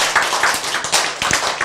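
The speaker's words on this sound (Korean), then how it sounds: "박수!" A church congregation claps in a short burst, a quick run of sharp, fairly close hand claps at an uneven rhythm.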